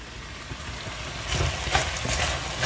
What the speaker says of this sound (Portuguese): eu vou deixar os temperinhos fritando